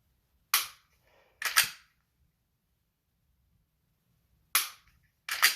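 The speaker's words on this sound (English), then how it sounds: "I am going to set up and do, we'll say 10 shots" Four sharp Glock pistol shots at a shooting range, fired in two quick pairs with a long pause between, loud and close with short ringing decay and no talking.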